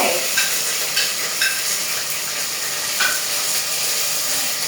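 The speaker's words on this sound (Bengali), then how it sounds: "কিছুক্ষণ নাড়াচাড়া করছি" A meat curry base of onion, garlic and ginger paste sizzles in a pan while being stirred, giving a steady close frying hiss broken by a few sharp scrapes of the spoon.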